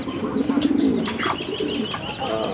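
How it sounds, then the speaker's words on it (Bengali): Pigeons coo close by in soft, throaty, repeated calls, with a few faint chirps in the background. "রাজা আসতেছে রেড রেড শৌকিং সবচেয়ে বিস্তারিত কবুতর এটা সুন্দর নতুন জোড়া নিচ্ছে"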